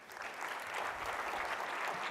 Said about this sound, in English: Can we get a big round of applause for Mano Mannoochahr?